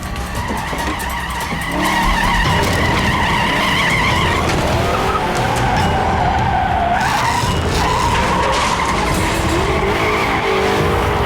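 A car in a Hollywood action film tears away at speed with long, loud tire squeals and skidding over a roaring engine, sustained almost throughout and with no talking.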